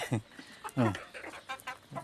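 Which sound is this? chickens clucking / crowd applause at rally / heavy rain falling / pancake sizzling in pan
chickens clucking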